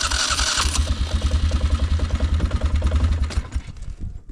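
A bush vehicle's engine with a suspected pinch wire or bad CDI box cranks, then catches and runs roughly with pulsing, sputtering beats for a few seconds before dying out, close and loud.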